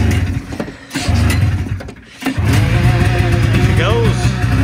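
BRP vehicle engine cranking, catching after a couple of tries and settling into a steady, loud idle with a brief rev, close to the listener.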